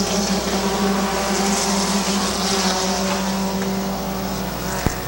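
Stock race cars accelerating at Midvale Speedway after coming off turn 4 to the green, a loud, sustained layered engine roar with steady droning tones and a brief sharp knock near the end.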